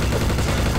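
Gunfire in the video game Trouble in Terrorist Town, a dense, loud burst of rapid shots packed into under a second with no pauses between them.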